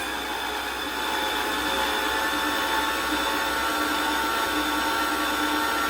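Electric mixer beating banana bundt cake batter with eggs, a steady close motor whir running evenly without pause.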